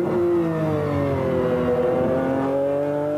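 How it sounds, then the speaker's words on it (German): A McLaren F1 sports car's 600-horsepower 6-litre BMW V12 revs loud and close, its smooth high engine note sweeping in pitch across several gear changes and accelerations without pause. "Angetrieben wird der McLaren von einem 600 PS starken 6 Liter V12 Motor von BMW."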